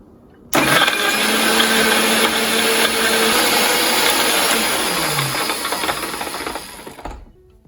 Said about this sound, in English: Close the lid and blend, blend,